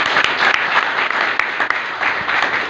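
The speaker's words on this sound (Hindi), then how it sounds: "जोरदार तालियां हो जाए।" An audience at a gathering applauds with dense, continuous clapping that stays loud and even throughout, with no talking.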